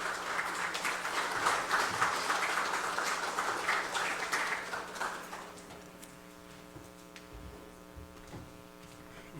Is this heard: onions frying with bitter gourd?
no